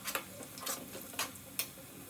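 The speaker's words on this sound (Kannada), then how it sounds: "ಸ್ವಲ್ಪ ರೋಸ್ಟ್ ಆಗೋದು ರಪ ರಪ ಅಂತ ಮಿಕ್ಸ್ ಮಾಡಿ" Spoon stirring and roasting ingredients in a hot pan for tomato gojju, a faint sizzle underneath with a few sharp scraping clacks spaced irregularly, quiet and close with no talking.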